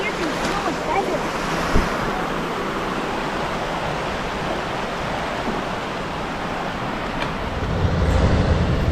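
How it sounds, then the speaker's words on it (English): A river fed by a waterfall rushes steadily in Flåm, Norway, a broad continuous roar of flowing water with wind buffeting the microphone and a slight swell near the end. "I'm guessing this is the river that comes from that waterfall over there."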